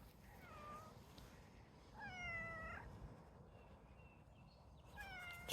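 A cat meows three times, clear, tonal and fairly close, with gaps of over a second between calls and the last one louder, over a low background hum.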